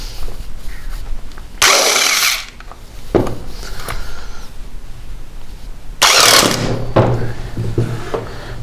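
A small petrol engine's crankshaft is turned with the spark plug removed and a finger over the plug hole. Two loud, rough bursts of cranking several seconds apart, with quieter mechanical noise between them.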